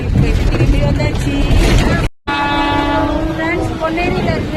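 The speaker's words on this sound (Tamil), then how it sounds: "ஃப்ரெண்ட்ஸ், பொன்னேரியில இருந்து நாங்கள் ட்ரெயின் ஏறியாச்சு." A train horn sounds in sustained harmonic blasts over a loud rumble of train noise, heard from on board at Ponneri, with a brief dropout midway and some voices in the background.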